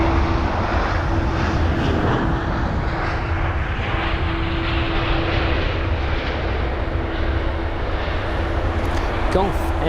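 A British Airways Airbus A320-200 landing at London Heathrow gives a loud, steady engine roar that fills the whole stretch without letting up, with a faint hum running through it.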